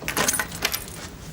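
A bunch of keys jangles close by with quick metallic clinks and rattles. The sound is brief and moderately soft, with no talking over it.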